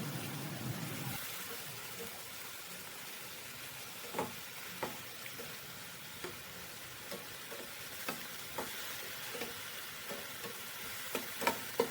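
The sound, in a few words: tomatoes cooking in a pan on medium flame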